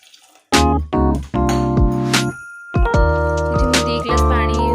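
Water being poured into a metal cooking pan while making sambar, with a loud splashing gush and bright metallic ringing in bursts, broken by brief pauses.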